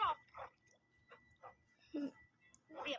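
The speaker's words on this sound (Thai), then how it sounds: "หมาเห่าเยอะแยะไปหมด" Several dogs bark in bursts outdoors, sharp yaps and barks recurring irregularly at a moderate distance over a quiet background.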